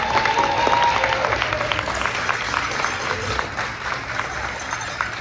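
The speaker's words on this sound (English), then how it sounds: "Can we give them a round of applause, please?" A crowd applauds at an elementary school fifth-grade promotion ceremony, steady and sustained, filling the room evenly before slowly easing.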